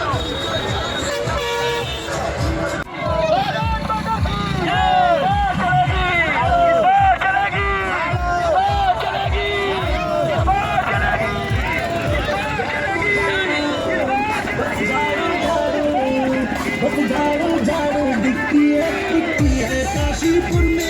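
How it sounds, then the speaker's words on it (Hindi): A heavy crowd packs an election campaign vehicle convoy rally in Kashipur, Uttarakhand, with a dense, steady babble of many voices and scattered car horn toots throughout, loud and close. "काफिले में भारी भीड़ उमड़ी।"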